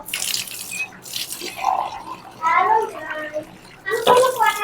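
Tap water runs in bursts as fish are rinsed in a kitchen, splashing close by, broken up by stretches of people talking, including a child.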